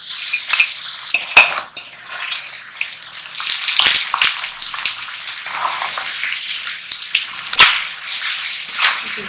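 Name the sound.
french fries frying again in hot oil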